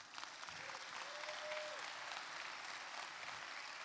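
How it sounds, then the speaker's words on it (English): Audience applause for the event team at the Infobip Shift 2021 opening ceremony: a continuous wash of many hands clapping, steady and moderately distant, with a faint voice or tone briefly rising over it early on. "please give a round of applause to the entire team that did not sleep last night"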